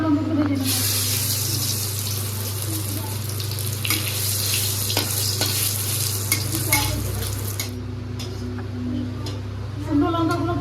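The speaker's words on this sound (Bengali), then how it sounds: "শুকনো লঙ্কাগুলো ভেজে নেবো।" Dried red chillies fry in hot oil in a kadai, giving a steady bright sizzle with occasional stirring clatter and a low background hum, then a quieter stretch near the end.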